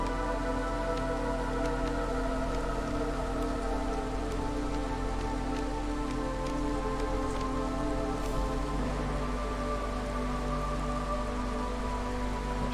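Steady drizzle in the video game Against the Storm, a continuous soft hiss of light rain pattering evenly on surfaces throughout, with no voices or thunder.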